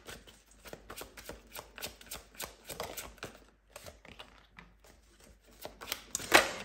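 Tarot cards being shuffled by hand in a rapid, steady riffling patter of crisp card slaps, close and fairly soft, with a brief pause before a final flurry.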